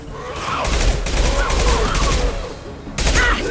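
Rapid gunfire and explosive bursts fill a firefight in Mass Effect Legendary Edition, loud and dense, with mechanical clatter and crashes, a brief lull near the end before the shooting resumes.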